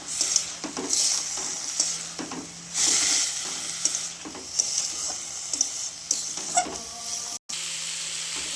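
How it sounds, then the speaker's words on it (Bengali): Vegetables with turmeric stir-fried in a pan, with a steady close sizzle and repeated scraping and stirring strokes of a spatula against the pan, with no voices. "এবার এটিকে ভাজা ভাজা করে কষে নিতে হবে"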